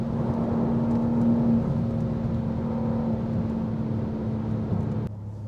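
A 2023 BMW M2 G87 cruises on a bumpy, curvy two-lane Autobahn stretch, giving a steady close cabin drone of engine and road noise that drops off abruptly near the end.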